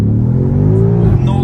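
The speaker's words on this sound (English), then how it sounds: "We are flying 0 to 100 in no time." A 2020 BMW M5 Competition accelerates hard from a standstill without launch control, its engine roaring loud and close from inside the cabin with rising harmonics, while a person talks over it.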